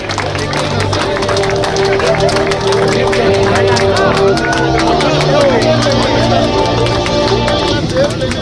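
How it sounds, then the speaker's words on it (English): A crowd at a school inter-batch football tournament prize ceremony applauds with sustained clapping and a murmur of voices, dense and continuous throughout. "A huge round of applause for Mr. Francis."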